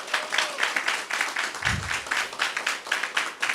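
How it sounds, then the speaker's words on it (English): A crowd applauds steadily, many hands clapping in a dense, even patter that holds for several seconds. "let's give them a round of applause"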